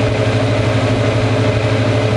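A gas boiler running in a garage, giving a loud, steady low mechanical hum and drone with a faint rhythmic chug, continuous and close, with no voices.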